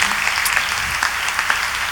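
Concert audience applauding supporters of a performer, a loud continuous wash of many hands clapping with no break.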